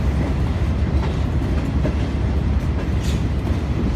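Green Line passenger train running from Lahore to Rawalpindi in Pakistan, a steady close rumble of wheels on rails with faint rhythmic clatter, heard from inside the carriage without voices.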